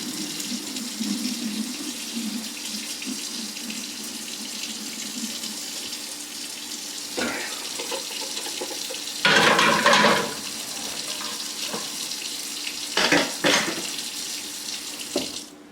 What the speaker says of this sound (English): So I'm going to pour out the excess chicken juice,